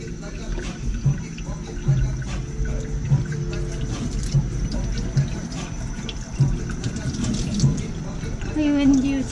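Water runs steadily over a freshly caught Pacific purple sea urchin being rinsed, a continuous splashing flow with low rumble underneath and a faint chirpy tone near the end.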